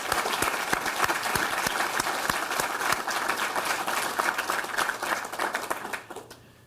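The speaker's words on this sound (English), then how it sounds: "I think we should give them a round of applause right now." Sustained applause from an audience for the event organizers, dense and steady clapping that carries on for several seconds before fading near the end.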